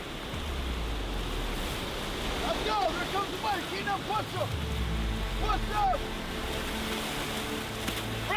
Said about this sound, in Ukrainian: Зараз буде хвиля.